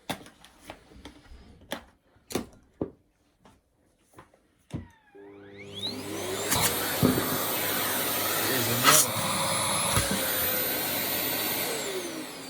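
A Dirt Devil handheld vacuum cleaner switches on after a series of sharp clicks and taps, then runs with a loud, steady whine and airflow roar, its pitch shifting slightly as it works.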